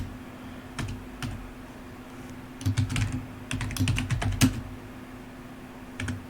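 Someone typing code on a computer keyboard: scattered single clicks, then quick clusters of crisp taps at close range over a low steady hum.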